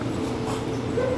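A pitbull mix dog gives a brief, close whimper with a short yip over a steady low background.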